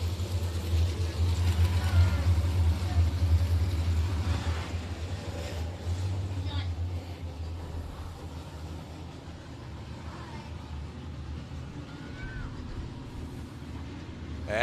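IMCA RaceSaver sprint car engines idling at Crawford County Speedway, a steady low rumble throughout with a rougher burble early on, heard from a distance with crowd and open-air noise.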